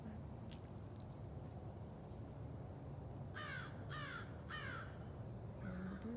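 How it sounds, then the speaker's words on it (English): Crows caw in a garden, a run of three harsh, evenly spaced calls at moderate distance over a steady background hiss, followed by a fainter call. "There are the birds."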